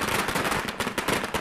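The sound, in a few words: fireworks set off by BJP workers in Ramnagar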